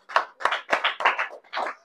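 Congregation clapping hands together in a church during worship, about six loud, even bursts of applause in a steady rhythm, close and without talk.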